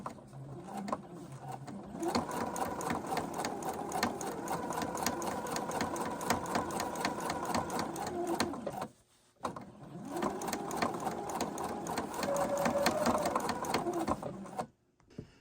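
A sewing machine stitches a hem around the bottom of a pair of pants in steady, continuous runs, stopping briefly once partway through and again near the end, close and clear with no talk.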